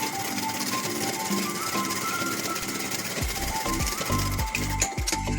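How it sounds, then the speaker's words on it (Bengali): Sewing machine running steadily while stitching a second seam on a little girl's skirt, a continuous close mechanical whir that shifts into faster, choppier bursts near the end. "এবার আরেকটা সেলাই দিলাম।"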